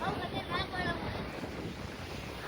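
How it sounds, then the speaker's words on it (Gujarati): Heavy sea waves rush and crash along the Dwarka coast near the Balkeshwar Mahadev temple, a broad roar mixed with strong wind buffeting the microphone. "અરે મોજા એવા આવો ને હેવી ને હેવી બ્લોકમાં આખો દરિયો જ આવ્યો"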